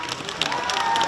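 Applause for honoured students of the year at a civic event in Burgas: dense crowd clapping fills the whole brief moment, steady and fairly loud, with a slight swell partway through.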